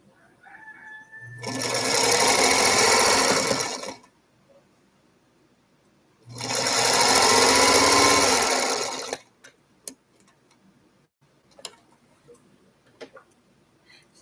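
A sewing machine stitches fabric in two steady bursts of about three seconds each, loud and close, with quiet pauses and a few small clicks in between.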